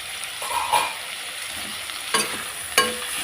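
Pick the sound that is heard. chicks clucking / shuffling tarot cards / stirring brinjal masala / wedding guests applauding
stirring brinjal masala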